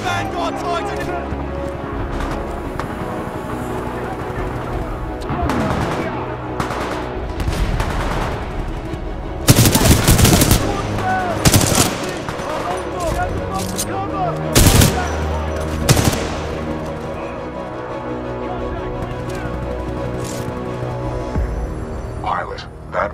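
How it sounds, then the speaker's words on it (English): Heavy supporting gunfire from a Vanguard Titan in the video game Titanfall 2: loud bursts and sharp blasts over a low throbbing hum, with voices talking between the volleys. "Commencing supporting fire."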